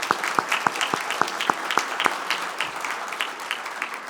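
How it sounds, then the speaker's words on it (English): A banquet audience at a Rotary club's 100th anniversary dinner in an event center gives a round of applause, a steady wash of clapping with a few distinct nearby claps standing out. "So let's give them a round of applause."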